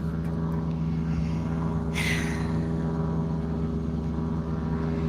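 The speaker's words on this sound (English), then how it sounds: "Got airplanes flying over." Airplanes passing over a parking area where an RV is parked, a steady low engine drone that stays loud and constant, with a brief hiss around the two-second mark.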